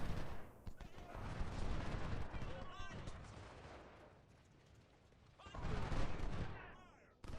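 Massed musket volleys and cannon fire roll across a Civil War battlefield in the strategy game Ultimate General: Civil War, with dense bursts of gunfire swelling near the start, easing in the middle and surging again toward the end.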